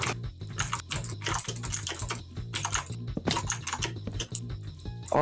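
Rapid computer keyboard typing during a Minecraft gaming session, a dense clatter of close key presses in uneven bursts throughout, with no talk.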